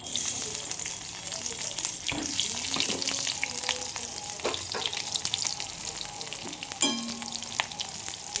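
Spice paste of onion and other ground ingredients fries in hot oil in a pan, a steady close sizzle with occasional stirring scrapes and clinks.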